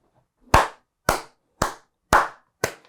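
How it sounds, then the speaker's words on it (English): Five sharp, isolated hand claps ring out at roughly even half-second intervals, close and crisp against near-silence, each one a single strong smack with a short decay. "Clap sync."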